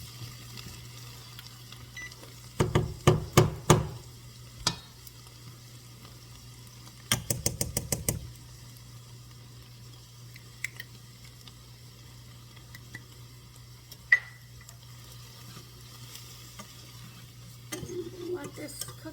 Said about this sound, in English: now I'm going to make a roux